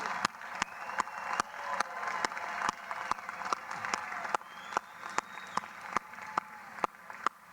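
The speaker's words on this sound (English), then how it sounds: "Let's give all our graduates, our amazing graduates, a big round of applause." Applause for graduates at a university commencement ceremony: a sustained crowd clapping, moderately loud, punctuated by sharp, regularly spaced individual claps close by that cut through the general ovation.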